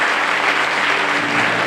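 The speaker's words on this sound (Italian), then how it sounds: "il gruppo 7, per favore un grande applauso" Applause from an audience at a sommelier diploma celebration in Veneto as a graduating group is honored, a dense, steady wash of clapping throughout with no speech.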